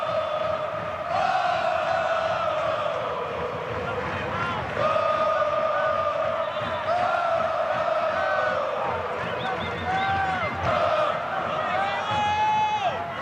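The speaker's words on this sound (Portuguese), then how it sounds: "Essa música que canta a torcida do Fluminense foi praticamente um hino do time" Fluminense supporters sing a sustained chant in a football stadium late in a 2010 Brazilian league match against Palmeiras, the melodic crowd voices steady and loud throughout with rising and falling pitch.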